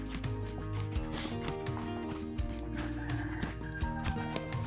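A horse trotting off during training work, with hoof clip-clops and a neigh or whinny over a steady background of humming tones, fairly close and continuous.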